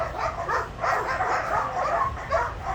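Several dogs at a shelter barking, yipping and whining in overlapping bursts from a moderate distance, an agitated, continuous chorus with steady background noise.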